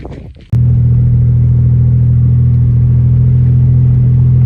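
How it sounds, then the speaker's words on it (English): A car's engine and transmission clunk hard into place with a sharp jolt just after a brief rustle, then the engine settles into a loud, steady low idle rumble close by. "I know in the video it sounds like it knocked, but that was actually just the engine and transmission shifting hard into place."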